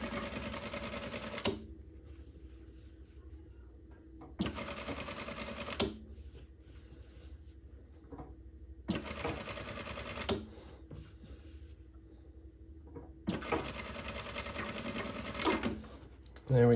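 A JUKI DDL-900C industrial sewing machine stitches in four steady, loud motor-driven bursts of about one to three seconds each, with quieter gaps of faint mechanical clicks between them.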